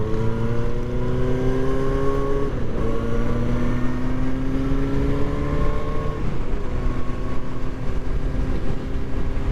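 Harley-Davidson motorcycles riding past in a group at Weston-Super-Mare, a steady, loud, low engine drone with rising and falling tones as the bikes pass close by.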